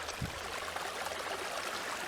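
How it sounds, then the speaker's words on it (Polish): The Kleśnica stream near Kletno in Poland flows with a soft, steady rushing and burbling, fairly quiet and continuous with no voices. "jak się nie mylę, strumyk ten nazywa się Kleśnica"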